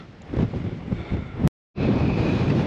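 Strong wind on a snowy Cairngorms mountain buffets the microphone with loud, continuous rumbling gusts that cut out briefly before roaring back, with no talking.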